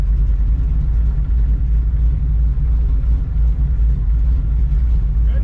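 An autocross race car at an SCCA Sacramento event drones loudly from inside the cabin, with a heavy, steady low rumble and no clear rise in revs.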